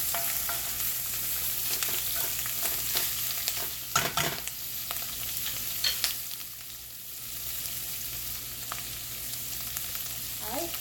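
Shrimp frying in a pan on high heat for shrimp scampi, a steady close sizzle with occasional stirring scrapes and clatter, continuous throughout with no talking.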